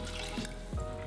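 Water trickles and splashes briefly as it is poured into a cooking pot holding rice with star anise, a short, quiet pour close by.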